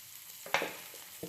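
Onions frying in a pan, a low crackling sizzle broken by a few sharp scraping stirs and clinks, close by with no talking.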